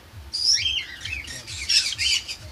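Frightened Java sparrows squawk and chirp in sharp, high bursts inside their cage during cleaning, several birds calling close together over a faint low rumble.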